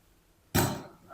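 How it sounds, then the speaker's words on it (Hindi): Fresh water poured onto bitter gourds in a pot in a home kitchen, a sudden loud gush that splashes and then tapers off, heard alone. "इसमें शामिल करेंगे ताज़ा पानी।"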